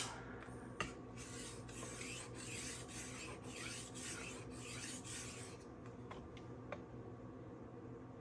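Knife blade drawn across a SharpWorx Master 2 sharpener in a steady series of rasping strokes, about nine evenly spaced passes, close and quiet, followed by a couple of light ticks. No speech.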